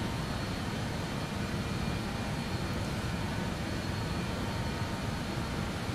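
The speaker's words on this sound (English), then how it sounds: "Cabin sounds are nice as well. They change based on how close you are to the engine." Steady, broadband engine drone inside the cabin of a BAe 146 airliner in a flight simulator game, a constant even roar with no breaks or talk.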